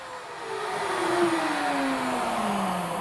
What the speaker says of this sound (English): In one operation, this machine cuts the pocket and the through hole.